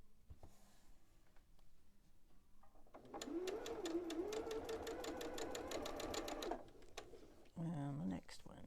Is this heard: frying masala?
no